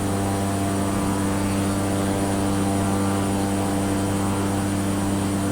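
A Cessna propeller airplane in flight drones steadily and loudly on its engine, with a constant, unbroken hum while flying from Oakland toward Burbank.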